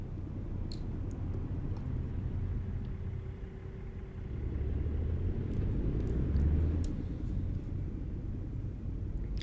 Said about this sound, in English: That was a very Peterbilt sounding truck right there.